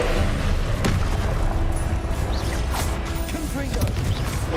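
A Confringo fire-blast spell in the game Hogwarts Legacy goes off as a dull boom amid a busy, constant bed of combat noise and crashing effects.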